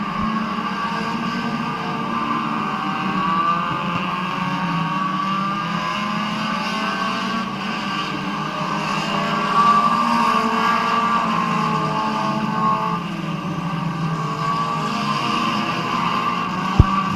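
Race cars lap Midvale Speedway with a continuous roar of engines that swells and fades as the pack circles, steady and moderately distant, with no voices over it.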